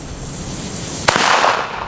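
One sharp bang from an EL Gato Masclet firecracker cracks out against a steady outdoor rumble, followed by a brief hissing tail.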